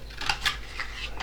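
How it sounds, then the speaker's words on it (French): Scissors make a few quick, close snips through a small piece of material, each cut a short crisp clack, with no talking. "Avec mes ciseaux, je coupe un petit morceau."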